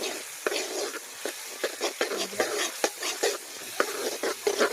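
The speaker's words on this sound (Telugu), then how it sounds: "అది మొత్తం బాగా ఫ్రై చేసుకున్నామండి" Green chilies, curry leaves and ginger-garlic paste frying in oil for a chicken curry make a steady crackling sizzle, broken by sharp clicks and scrapes of a spoon stirring in the pan.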